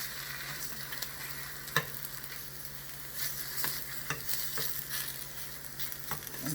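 Plantain slices sizzle steadily in a pan of hot oil on an electric stove, a dense continuous crackle with occasional sharper pops as pieces are turned, close and even.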